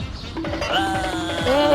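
A wavering sheep bleat from the game Scary Stranger plays briefly and loudly over a steady electronic background.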